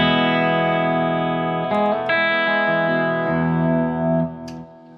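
Clean electric guitar played on the bridge pickup through a Splawn QuickRod 100-watt amp, with reverb and delay in the effects loop; sustained chords ring out and shift, then trail off near the end, with no talk.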